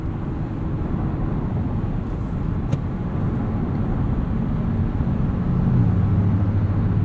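A 2020 Toyota Avalon TRD sedan cruises along with a steady low engine and road drone heard from the cabin, its pitch rising slightly near the end.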